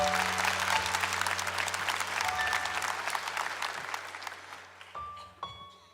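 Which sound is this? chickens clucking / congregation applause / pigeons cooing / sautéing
congregation applause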